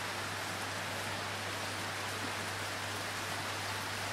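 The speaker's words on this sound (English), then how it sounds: "It's a little rainy day today." Rain falling on an ocean island during a marine science course, a soft, even, continuous hiss of drops with no talk, steady and fairly faint throughout.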